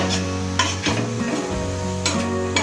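A spoon stirs ground tomato into tawa fish masala in a hot pan, with a few sharp scraping strokes and clinks over a low steady sizzle, close and fairly loud.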